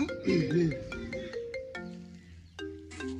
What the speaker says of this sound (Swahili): Pokea simu wewe.